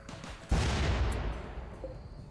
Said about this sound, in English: Huck a grenade at that.